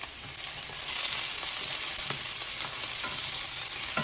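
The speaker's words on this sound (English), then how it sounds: "I'm just gonna saute my onion until they become soft a little bit" Chopped onion sizzles and sautés in a hot pan for borscht, a steady close crackling hiss with faint stirring taps and no talking.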